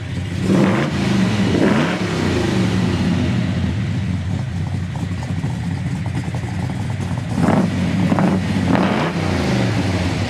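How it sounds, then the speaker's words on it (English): A 1969 Chevrolet Chevelle SS 396 convertible with a big block V8 and dual exhaust rumbles at a steady deep idle nearby, with a few brief throttle blips rising out of the low burble. "I love the sound of that dual exhaust coming back from this big block"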